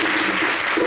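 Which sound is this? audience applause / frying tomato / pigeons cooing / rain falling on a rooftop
audience applause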